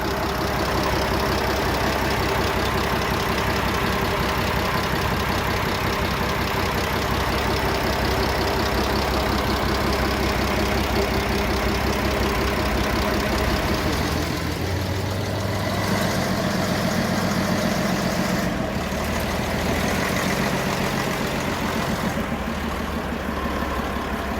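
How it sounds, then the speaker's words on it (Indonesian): Diesel engine of a Hokuriku locomotive idles with its hood open, a steady, loud, close rumble that holds throughout, its low drone shifting slightly in tone partway through. "seperti inilah penampakan mesin lokomotif Hokuriku ini"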